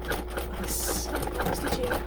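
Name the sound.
sewing machine doing double stitching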